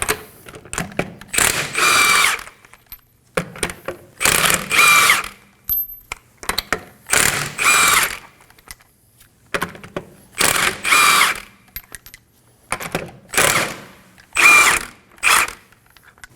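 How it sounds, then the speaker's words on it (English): Lug nuts come off a rear wheel of a 2016-2020 Kia Sorento with a 21mm socket: about eight short, loud bursts of mechanical whirring and ratcheting, evenly spaced with brief quiet gaps and no talking. "Using a 21mm socket, we're going to remove the lug nuts."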